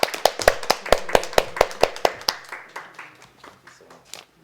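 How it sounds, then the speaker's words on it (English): Clapping at a Valentine's Day retreat, close and crisp, starts as a fast run of distinct hand claps and then thins into scattered, softer claps that trail away. "Give it a round of applause for it."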